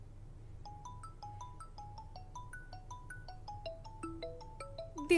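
A mobile phone rings with an incoming call, playing a bright melodic ringtone of repeating electronic note patterns that climbs and grows busier over about five seconds, clear and alone with no voices.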